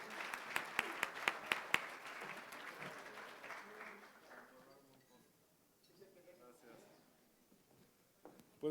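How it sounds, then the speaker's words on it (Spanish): An audience at a national tourism forum in Mexico City applauds to welcome a speaker, a short burst of sharp clapping that fades within a few seconds, followed by quiet room noise and a voice beginning to talk. "Recibámoslo con un fuerte aplauso."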